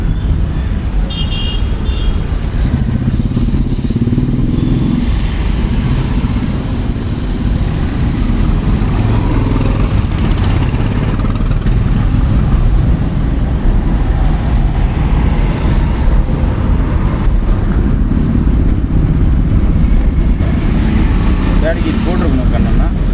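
A car engine during a driving-school lesson, droning steadily and close with small rises and dips as the driver accelerates and brakes, under a steady stream of instructor talk.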